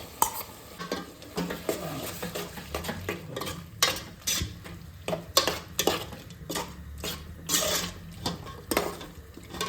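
Onion and yogurt sautéing in a pan for paneer butter masala, with a spoon scraping and stirring in repeated clinking strokes over a soft continuous sizzle, close and fairly loud, no talking.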